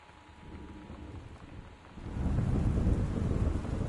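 A video game thunderstorm rumbles with heavy, torrential rain and high wind, a steady wash of noise that swells louder partway through with no talking.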